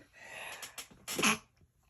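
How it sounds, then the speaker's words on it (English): A few quick, soft breaths lead into a single sharp sneeze, close and fairly quiet, followed by stillness. "Oh, hang on, I'm gonna sneeze."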